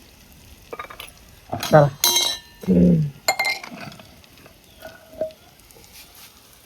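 Tempering for dal sizzles in a pan on a wood-fired clay stove, with sharp bursts of spitting oil and clinks of metal utensils; a voice briefly speaks.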